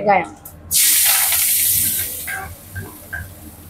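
Fennel seeds dropped into hot oil with cloves and bay leaf for mutton gravy and ghee rice burst into a loud, bright sizzle that slowly fades, with someone speaking over it.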